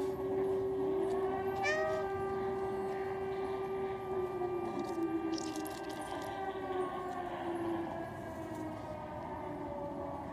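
A cat in the video game Stray lets out a few meows over a steady, loud ambient bed with a sustained hum, with occasional higher chirps; no one speaks.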